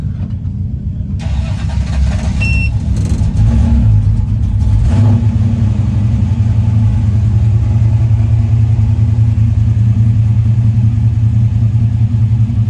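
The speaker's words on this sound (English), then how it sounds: "I got a little cold start this morning." A hot rod's engine cold-starts with a sudden catch, revs up sharply, then settles into a loud, rumbling idle that carries on close by, with no one talking.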